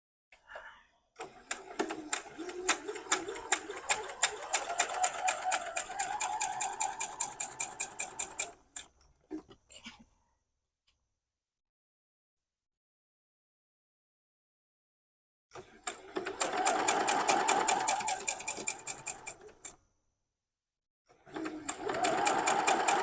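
Sewing machine stitching quilt block pieces for a potato chip block, running in fast rhythmic bursts: a long stretch, a pause of silence, then two more runs, close and steady with no talk.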